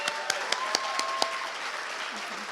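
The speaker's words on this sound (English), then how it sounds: "Another round of applause for Dr." Audience applause at a Wayne State University Martin Luther King Jr. tribute event, a steady wash of clapping with a few sharp, close claps standing out early, then thinning slightly as a voice begins underneath.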